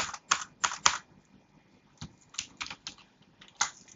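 Quick bursts of computer keyboard typing while writing Arduino code, clustered clicky keystrokes with short pauses between groups, close and fairly quiet.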